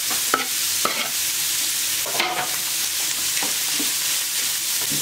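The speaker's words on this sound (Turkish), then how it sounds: "Soğan ve biberleri de rengi değişene kadar kavuruyorum." A steady sizzle of chopped onions and peppers frying in a hot oiled pan, with occasional scraping stirs and clinks from a utensil, close up and with no talking.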